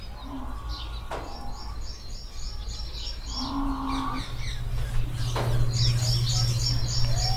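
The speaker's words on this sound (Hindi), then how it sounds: "और यहाँ पंछियों की बहुत अच्छी आवाज़ आती है।" Birds chirp outdoors in repeated short bursts of high tweets, while lower drawn-out animal calls sound at intervals against a soft background rumble.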